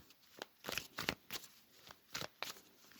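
Tarot cards shuffled and cut by hand, a run of quick papery riffles and slaps in irregular bursts, close and fairly quiet, with no talk over them.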